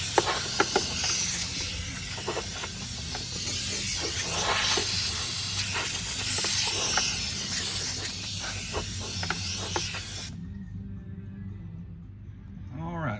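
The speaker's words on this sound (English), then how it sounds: "Put a rag over my carburetor and I'm just going to lightly blow this grass out here." Compressed air is blown lightly through grass clogging the air filter of a Kawasaki FR series engine, with a rag over the carburetor, giving a continuous close hiss with short bursts that cuts off abruptly near the end.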